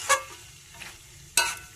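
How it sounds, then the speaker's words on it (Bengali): Greens curry with fish head and fried bitter gourd is stirred in a pan, with two brief close scraping strokes over a faint steady sizzle. "এটা একবার ভালোভাবে ঘেটে নেবো।"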